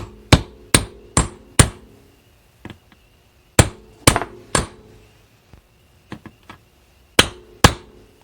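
A hammer taps an impact socket to press a universal joint cap into a driveshaft: sharp metallic strikes in quick groups of three or four, with pauses and a few lighter taps between them.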